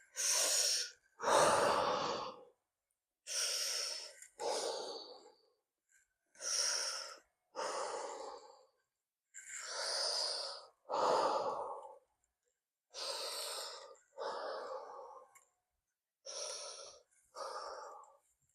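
Deep, paced breathing held through a yoga pose, about a dozen long inhales and exhales in a slow regular rhythm, close and clear, separated by brief silences.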